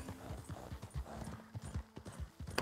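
Horse hooves gallop in Red Dead Redemption 2, a fast, steady clip-clop rhythm of heavy thuds close by, repeating evenly throughout with no talk over it.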